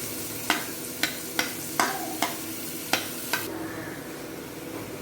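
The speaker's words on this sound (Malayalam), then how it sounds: "ഇനി കുറച്ച് നമ്മൾ സവോള അരിഞ്ഞ വെച്ച സവോള ഇതിൻ്റെ അകത്തോട്ട് ചേർക്കുകയാണ്." Chopped onions frying in hot oil with ginger paste, a constant close sizzle broken by about seven sharp scraping strokes of a spatula at irregular intervals, after which the frying settles into a softer, duller hiss; no talking.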